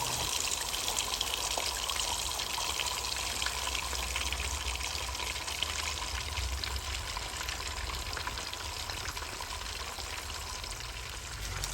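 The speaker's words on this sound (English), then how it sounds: "add the red snapper fish into hot oil and fry it" Pieces of red snapper fry in hot oil seasoned with soy sauce and salt, a dense, steady sizzling hiss that holds at an even level throughout with no voices.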